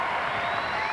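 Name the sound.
volleyball crowd cheering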